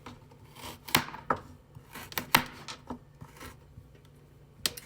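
A knife chopping carrots for homemade chicken soup, an uneven series of crisp cuts and scraping strokes on a board, fairly close and moderately loud, with a few sharp louder knocks.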